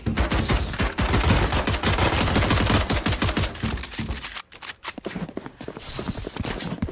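Rapid pistol gunfire from a Valorant esports match, dense overlapping shots crackling loudly for several seconds, then a brief lull before more scattered firing returns.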